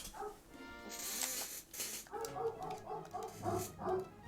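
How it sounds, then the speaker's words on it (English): Dogs bark in a rapid run of yips and bow-wows, somewhat distant and muffled, under ongoing game music and background sound. "What are my dogs barking at?"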